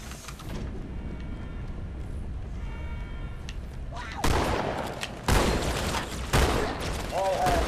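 Gunfire erupts in Halo 2 in a few loud bursts after a quieter, humming stretch, the shots hitting hard and close with ringing tails.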